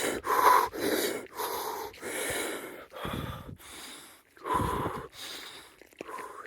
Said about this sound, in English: breathing in the belly, breathing in the underbelly